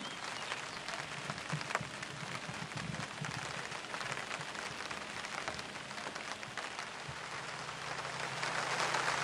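Steady heavy rain patters on a surface at a lakeside fishing spot, a continuous dense hiss that swells slightly louder toward the end.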